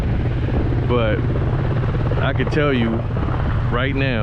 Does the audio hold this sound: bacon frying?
no